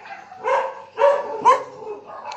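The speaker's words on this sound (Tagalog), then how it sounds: "Maraming aso dito sa Casamira. Maraming mga aso." Dogs bark on an early morning walk at Casa Mira, Linao, Lipata, Minglanilla, Cebu, giving three sharp, close barks in quick succession followed by a softer yelp.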